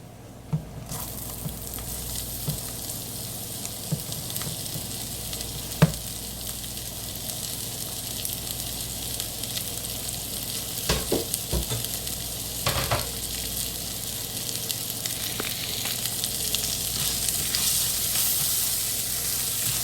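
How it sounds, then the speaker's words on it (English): Rice browning in a pan for Spanish rice, with garlic and onion, gives a steady close sizzle and frying hiss throughout, broken by a few louder scraping stirs of the spoon against the pan. "make sure that you always like stir the rice when you're browning it"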